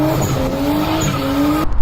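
A drift car at a drift competition skids with a sustained, loud tire squeal over a droning engine, the squeal holding steady before cutting off abruptly.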